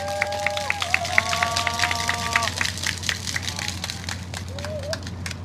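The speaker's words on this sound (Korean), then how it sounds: "박수로 맞이해 주시기 바랍니다." Crowd at an outdoor climate justice march rally applauding to welcome speakers on stage, scattered clapping at moderate distance over a steady background hum with brief voices and tones mixed in.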